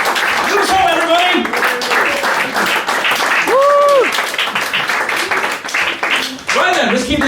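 Loud, sustained audience applause at a stand-up comedy show, a dense wash of clapping that continues throughout while someone talks and calls out over it.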